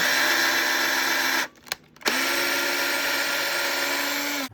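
A power drill whirs steadily as it drills through a skate boot, stops briefly, then restarts and runs continuously again, close and loud.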